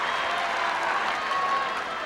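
Wimbledon crowd at the 2001 Gentlemen's Championship final applauding steadily, a dense, even wash of clapping from a large stadium audience that holds at constant loudness throughout with no voices on top.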